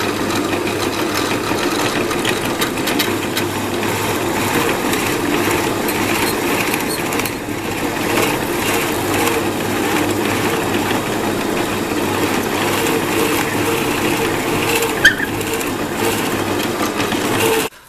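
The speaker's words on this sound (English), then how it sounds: "I'm going to drill the cap piece with a 32 mil hole" Drill boring a 32 mm hole in a wooden shovel handle cap, a continuous loud motor drone with rough grinding vibration, steady for the whole stretch before stopping abruptly at the end.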